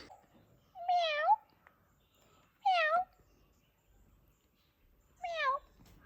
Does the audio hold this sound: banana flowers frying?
no